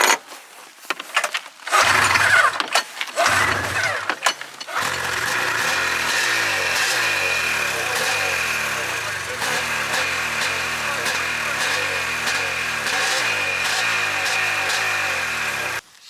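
An Arctic Cat engine running on only one cylinder idles with an uneven, pulsing chug at close range. Voices speak briefly at the start, and then the rough engine runs steadily on its own.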